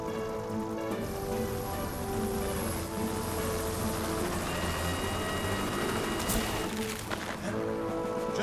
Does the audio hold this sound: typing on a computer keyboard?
no